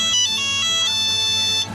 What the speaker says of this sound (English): That is Nokia. That's the OG ring.